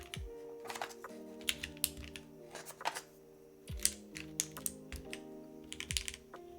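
Keys on a Matrix MY-2K mechanical keyboard fitted with GMK keycaps clack in quick, irregular bursts of typing, close up and fairly quiet, with no one talking.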